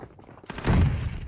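A grenade explodes in PUBG Mobile with a sudden, loud, close blast that swells into a deep rumbling roar and fades slowly.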